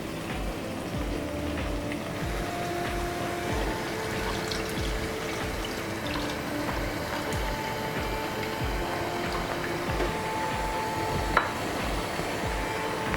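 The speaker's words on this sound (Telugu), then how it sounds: "ఇప్పుడు మనం ముందుగా తీసి పెట్టుకుని చింతపండు రసం వేసుకుందాం." Tamarind juice is poured into a simmering garlic fish curry in the Godavari style, making a soft, steady liquid pour over quiet kitchen background noise.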